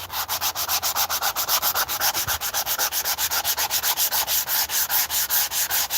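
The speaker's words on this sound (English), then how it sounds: "I probably need to swap my sandpaper for something a bit coarser, and then do a little bit more work." Sandpaper rubs rust off an old winged spear in quick, even back-and-forth strokes, about seven per second. The rasping is close and steady, with no talking.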